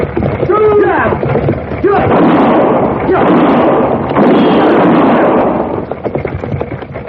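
Gunfire in a 1958 Western radio drama, 'Have Gun Will Travel': a few heavy, roaring bursts of shots follow a brief voice at the start, dense and loud, dying down near the end.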